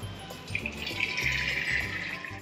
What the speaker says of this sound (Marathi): आता ह्याच्यातले एक्स्ट्रा पाणी आहे ते काढून घ्यायचे आपल्याला चाळणीनं।